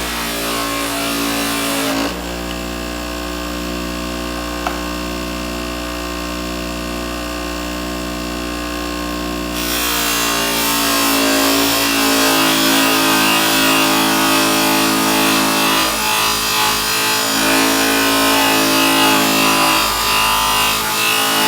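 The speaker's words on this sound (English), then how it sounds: "I'm probably gonna just have to burn through this with my polishing wheel and some polishing compound." A motorized polishing wheel loaded with polishing compound buffs old lacquer off the metal of a 1920s Prentiss-Wabers Auto-Cook-Kit No. 4. A steady, loud motor hum runs throughout, and its tone shifts as the metal is pressed against the spinning wheel.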